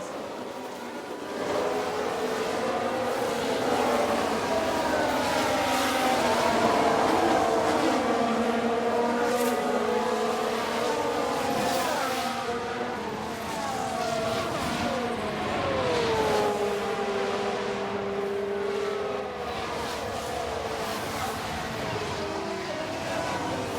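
Formula 1 race cars in F1 Manager 2022 at the French round, a loud sustained engine whine with rising and falling pitch sweeps as cars pass and jostle, continuous throughout.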